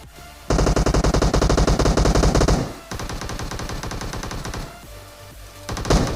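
Loud, rapid SMG bursts rattle in a battle royale video game, one long sustained spray followed by further extended automatic fire and a short final burst, with no talking.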